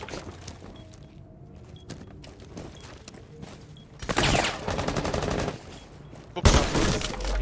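Gunfire in Rainbow Six Siege: quiet footsteps and shuffling first, then a sudden loud rapid burst of automatic fire for about two seconds, followed after a short gap by another close, heavy volley.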